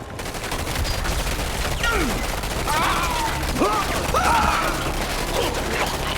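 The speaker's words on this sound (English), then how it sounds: "Riflemen, Engage." Rifle infantry firing in the strategy game Command & Conquer 3: Tiberium Wars, with sustained bursts of gunfire and scattered ricochet-like whines layered over a dense battle din.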